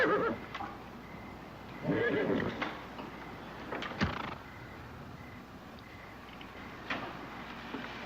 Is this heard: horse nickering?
yes